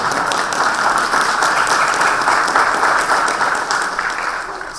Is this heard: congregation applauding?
yes